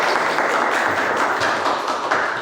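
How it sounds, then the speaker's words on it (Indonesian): An audience claps during a podcast on medical laboratory technology, a steady, dense wash of hand claps lasting a couple of seconds at close range, with no voices over it. "tentunya bisa tepuk tangan dulu teman-teman"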